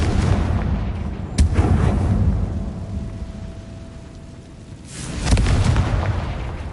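A Confringo blasting spell detonating in a wizarding action game, two heavy booming explosions a few seconds apart, each with a rumbling tail that fades into low background noise.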